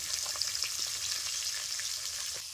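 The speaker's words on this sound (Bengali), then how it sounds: "আস্তে আস্তে মাছগুলোকে ভালো করে ভেজে নেব।" Pieces of rohu fish fry in hot oil over medium heat, giving a dense, even sizzle heard close and alone, with faint soft crackles throughout.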